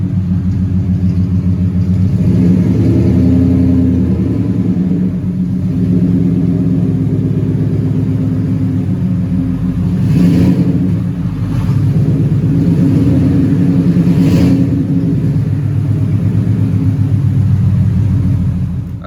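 A Ford Mustang GT (New Edge) rumbles loudly and steadily as it drives back in, its engine note rising slightly in a couple of spots.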